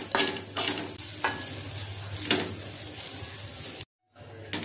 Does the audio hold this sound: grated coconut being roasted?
yes